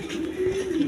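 A single pigeon gives a low, soft coo that runs for about a second, close by and fairly quiet, with no talking.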